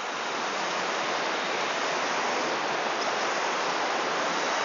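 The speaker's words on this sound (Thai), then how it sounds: "น้ำตกผากล้วยไม้นะครับ" Pha Kluai Mai waterfall in Khao Yai roars as a dense, constant rush of falling water, loud and unbroken with no other sounds.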